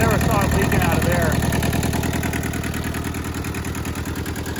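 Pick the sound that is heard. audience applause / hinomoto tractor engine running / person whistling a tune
hinomoto tractor engine running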